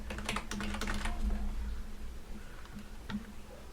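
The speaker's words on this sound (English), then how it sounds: "I cannot type today." Rapid bursts of close computer keyboard typing, quick clustered key clicks that thin out into a few scattered taps, quiet and alone with no talk.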